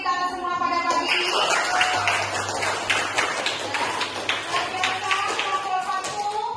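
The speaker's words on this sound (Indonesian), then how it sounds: "kita berikan aplaus kepada Sophia" Scattered clapping from a classroom audience applauding a student named Sophia, brief and fairly close, with talk in the room.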